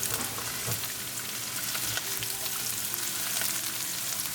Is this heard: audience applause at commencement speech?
no